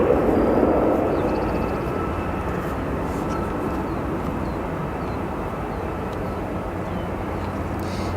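Aircraft at Chicago O'Hare International Airport, a steady low engine rumble and roar held at a distance, slightly louder at the start, with a faint voice talking over it.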